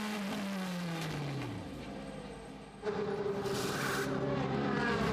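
A DTM race car's engine winds up and falls as it leaves the pit lane after a tyre change and penalty stop at Spielberg, then surges loudly with a sharp rise in revs, steady and close.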